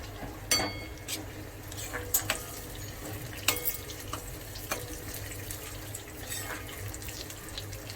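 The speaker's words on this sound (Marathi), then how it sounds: "दुसऱ्या कढईमध्ये आपण थोडंसं तूप ठेवलेलं आहे घालून त्याच्यात काजू बदाम थोडे भाजून घ्यायचे लालसर." Cashews and almonds roast in ghee in a kadhai, giving a steady soft hiss broken by scattered sharp clicks and scrapes of stirring.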